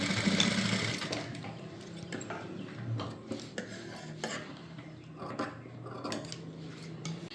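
A sewing machine stitches a folded blouse hook strip in soft bursts of rapid mechanical whirring, separated by brief pauses and light handling clatter, at a fairly low level.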